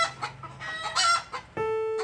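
Chicken clucking, several close, loud clucks and squawks in quick irregular succession, ending in a sustained crowing-like call, with no talking.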